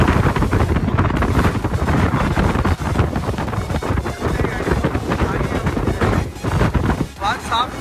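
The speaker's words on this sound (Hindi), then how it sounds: "देख के आपको पता ही लग गया होगा कितनी तेज हवा चल रही है" Strong wind roars and buffets the microphone in a constant broadband rush on the way from Madurai to Rameshwaram in Tamil Nadu, with brief gusts and a faint voice near the end.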